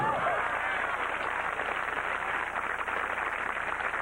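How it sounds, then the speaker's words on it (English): Crowd at a 1979 pro bowling tournament in Grand Prairie, Texas, applauding in a steady, broad wash of clapping that stays even throughout. "Enthusiastic crowd here in Grand Prairie, Texas."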